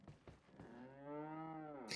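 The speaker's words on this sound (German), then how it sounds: "wie die Kuh sich einfach die ganze Zeit beschwert" A cow in the video game Resident Evil 4 moos once in a long, drawn-out, nasal bellow that rises and holds steady, close and clear, ending with a brief noisy burst.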